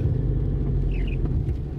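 A tricycle and a car pass along a flooded road with a heavy, continuous low rumble close by and a steady engine drone, with no voices.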